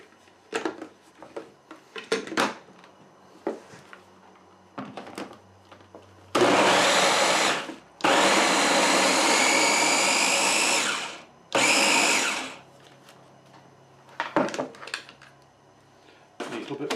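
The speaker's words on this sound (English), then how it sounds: "We're going to blend that up." A kitchen blender purées corn kernels with a little water, running loud and steady in two long bursts separated by a brief pause, with clattering and handling noises before and after.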